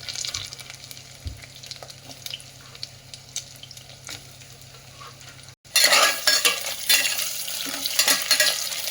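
Potatoes added to onions frying in a pan for aloo bath give a quieter sizzle at first. Partway through, a sudden loud burst of sizzling and crackling rises and stays strong with steady stirring.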